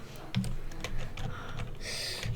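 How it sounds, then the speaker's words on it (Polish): Computer keyboard keys click in quick, uneven bursts while Minecraft is being played, close and moderately loud against a faint background hum. "Się stresuję, klikam wszystkie klawisze"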